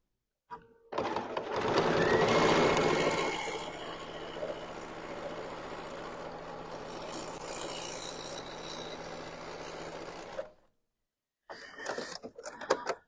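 A sewing machine stitches quilt-as-you-go blocks together, a dense steady mechanical whir that runs loud and close for about ten seconds, then stops. A few short bursts of rattling follow.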